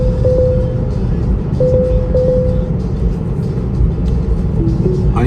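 A car cruises on a Belgian road under manual driving, its steady engine and road rumble filling the cabin, with a few soft tonal chimes over the constant drone.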